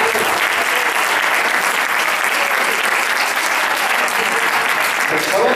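A conference audience at a science and spirituality congress breaks into sustained applause, dense and loud, a steady wash of clapping throughout with a faint crowd murmur beneath.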